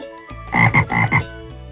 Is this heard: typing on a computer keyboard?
no